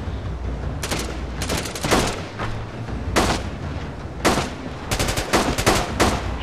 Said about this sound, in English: Why are my guys shooting?